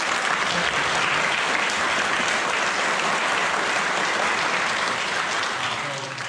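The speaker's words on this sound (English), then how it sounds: "So let's give Shane a, a round of applause for" A crowd at a fishing meet-and-greet lunch applauds the host with steady, dense clapping that fills the room at even loudness for several seconds before starting to fade at the end.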